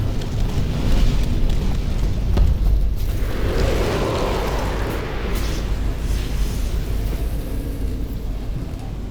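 A deep, rumbling animated explosion in a Demon Slayer style, with a heavy low-end boom that swells early, then settles into a sustained roar and crackle fading slowly over several seconds.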